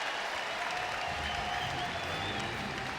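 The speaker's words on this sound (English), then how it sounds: "you can hear the fans start to get excited" Fans roar and applaud steadily inside a basketball arena during an Oregon Ducks versus Arizona game, a dense continuous crowd wash with no breaks.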